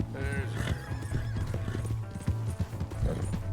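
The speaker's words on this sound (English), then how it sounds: "I guess it makes sense that the horse would be, like, complaining about having a unknown rider on it" A horse in Red Dead Redemption 2 neighs and whinnies while its hooves clip-clop steadily on the ground, the ridden mount sounding close and continuous throughout.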